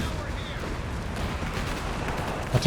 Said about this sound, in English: That first barrage, easily the best so far